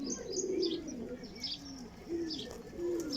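Teddy pigeons cooing close by, a few soft rolling coos repeating at an uneven pace, with scattered chirps and light background chatter among the birds.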